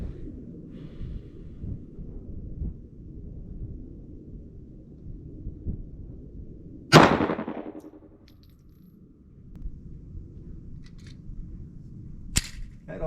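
.380 ACP pistol firing 68 grain hollow point rounds, with a single loud, sharp shot after a quiet stretch and a second brief crack several seconds later.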